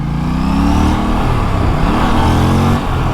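An Aprilia RS457 motorcycle accelerating along a rough, badly broken road, its engine loud and close with rising revs over continuous wind and road rumble, no voices.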